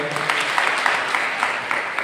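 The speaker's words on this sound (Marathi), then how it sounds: "ताईंसाठी पुनश्च एकदा टाळ्या वाजवा." Audience at a sannyas initiation ceremony applauding, a steady even wash of many hands clapping throughout, with a voice faintly underneath.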